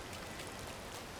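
Steady rainfall in the Disney Dreamlight Valley video game, a soft even patter of drops holding at a constant low level for about a second with no voices.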